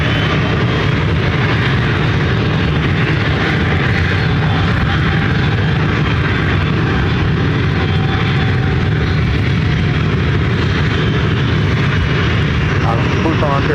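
An airplane taking off from runway 26 left at Ontario, California airport: a loud, steady, broadband engine roar fills the whole stretch without letup, with radio-style voices faintly mixed in.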